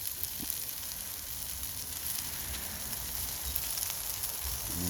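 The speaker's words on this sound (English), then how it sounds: "And I sizzle them a little more" Steak tips sizzling steadily in a pan as they slow cook, a continuous close crackling hiss of frying meat with no talk.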